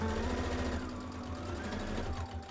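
A sewing machine stitches a fold-down first layer of a corset top, a steady close mechanical whir with fast regular needle thumps, running alone and fairly quiet.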